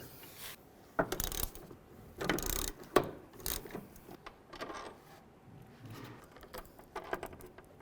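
Ratchet wrench clicking while removing front engine mount bolts on a Volkswagen Beetle, with short bursts of metallic ratcheting and clanks in a garage, moderately close and irregular.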